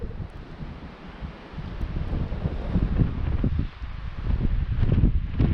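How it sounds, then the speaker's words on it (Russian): Strong winter wind in the taiga while ice fishing, buffeting the microphone in rough, uneven gusts with low rumbling blasts that swell and ease. "Ветер, конечно, страшный"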